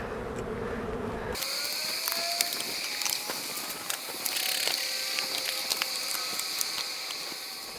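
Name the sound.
ratchet straps being released from a beehive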